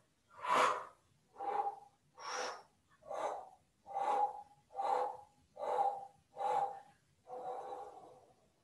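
Slow, deliberate breaths during a seated qi gong exercise, eight or nine evenly spaced inhales and exhales, close and clear in a quiet room, the last one longer and softer.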